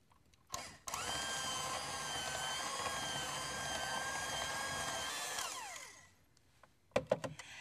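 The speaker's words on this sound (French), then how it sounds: "je mélange avec un batteur électrique à vitesse moyenne pour obtenir un mélange homogène et crémeux" An electric hand mixer runs at medium speed through softened butter and cream cheese frosting, giving one steady whirring drone for about five seconds before it winds down, then a few clinks of the beaters. The sound is close, with no talking.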